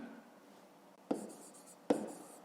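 A pen writes on paper during a fifth-grade math exercise, a quiet scratching at close range punctuated by two sharp taps.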